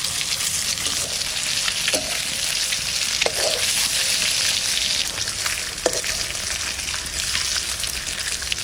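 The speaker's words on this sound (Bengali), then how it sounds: "ডিম ভাজা হয়ে গেছে, এবার তুলে নেব।" Eggs coated in salt and turmeric fry in hot oil in a pan, giving a loud, steady sizzle throughout with a few soft clicks of stirring or flipping, no voices.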